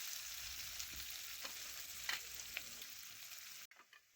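Chopped onion frying in oil with bay leaf and whole cumin, a soft steady sizzle with light scraping stirs, near but faint, ending abruptly.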